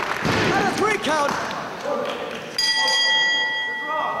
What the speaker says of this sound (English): The bell sounds and we've had a double pin.